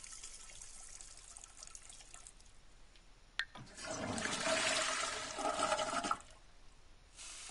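A toilet flushes in The Sims 4, a sudden rushing swell of water that peaks and then cuts off, followed by a brief trickle, heard close and alone with no talking.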